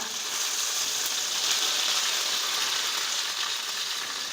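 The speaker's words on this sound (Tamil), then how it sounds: "கடுகு நல்லா பொரிஞ்சு வந்துருச்சு ரெண்டு கொத்து அப்படியே உருவிட்டு எடுத்து வச்சுருக்கேன் இப்போ அப்படியே சேர்த்து கொடுத்துக்கோங்க" Mustard seeds, dried chillies and curry leaves sizzle in hot tempering oil for a beetroot pachadi, a loud, steady, close hiss that carries unbroken throughout with no talking.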